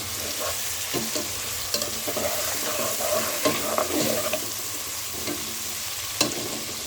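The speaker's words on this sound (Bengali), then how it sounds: "ভালো করে নাড়িয়ে করে মশলাটাকে কষিয়ে নেব এই মাংসের সাথে।" Chicken pieces and spices are stirred and fried in a pan, with a constant sizzle broken by repeated scraping stirs of the spoon, close up and without speech.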